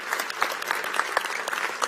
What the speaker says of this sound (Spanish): ahorita denle un aplauso al rey